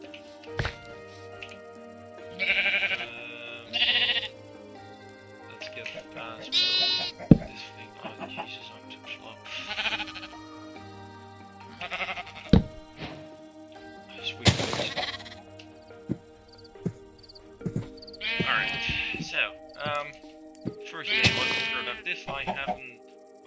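Sheep bleating in modded Minecraft, a video game, with repeated short bleats scattered through the clip alongside game thunks and taps, while a person talks over it.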